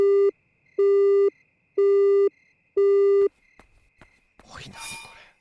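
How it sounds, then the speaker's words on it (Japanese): A telephone busy tone in the horror video game Yomawari gives four evenly spaced beeps, followed by faint clicks and a brief noisy burst at the end. "今の電話何だったの？"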